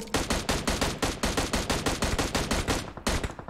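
Rapid bursts of automatic gunfire from PUBG Mobile, loud and close, firing in a steady rattling stream of sharp shots for several seconds before a brief pause and a final burst.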